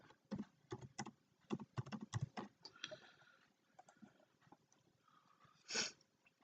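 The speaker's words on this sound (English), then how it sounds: "you type in your username and password" Typing on a computer keyboard, quick irregular clusters of close, crisp key clicks with short pauses between bursts, quiet overall, ending with a single louder tap.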